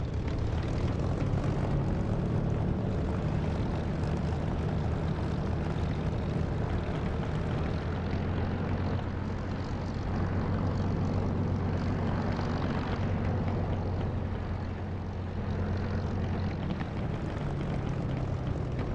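A propeller aircraft engine drones steadily while taxiing in a combat flight simulator, a loud, continuous hum that stays close and unchanging throughout, with no talk.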